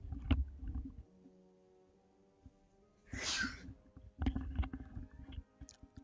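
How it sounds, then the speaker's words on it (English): A single sharp sneeze bursts out mid-clip, loud and close, framed by low rumbling noise and soft handling sounds before and after. "I'm going to sneeze"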